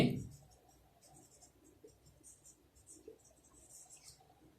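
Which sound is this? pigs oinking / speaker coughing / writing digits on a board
writing digits on a board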